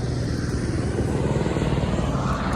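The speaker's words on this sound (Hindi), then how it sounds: "वो जा रहा है हेलीकॉप्टर" A helicopter flies past near a helipad on the Kedarnath route in the mountains, its rotor and engine giving a steady, loud droning whir that stays constant throughout, with no speech over it.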